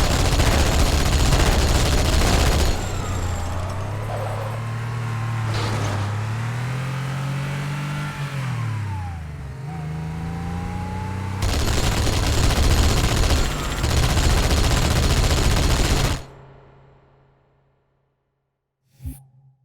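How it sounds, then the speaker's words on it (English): Assault rifle fire and vehicle engine noise from the game Halo, with sustained loud bursts of rapid gunfire and a revving engine whose pitch rises and falls, then a sharp cutoff to near silence and one brief final impact. "Put the assault rifle down."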